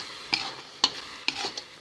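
Ladoo mixture of melting sugar fries in a pan over a gas flame, a faint sizzle under three distinct scraping strokes of stirring, close and quiet.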